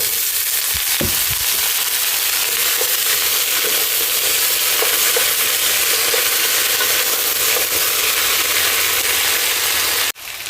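Potatoes frying in a pan over onions already sautéed to a golden color, a loud, steady sizzle running nearly unbroken with a few stirring scrapes early on, ending abruptly.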